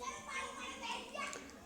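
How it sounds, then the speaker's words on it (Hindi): Children play and shout outside during an evening class, a faint, continuous background of young voices and chatter, with no distinct single shouts. "पीछे से बच्चों का शोर आ रहा होगा"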